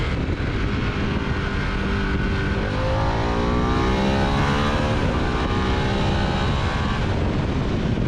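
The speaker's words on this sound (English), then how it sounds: "Harley has managed to make a pretty entertaining motorcycle here." Harley-Davidson Pan America adventure motorcycle riding along, a steady loud engine drone with rising and falling revs and wind rush throughout, no talk.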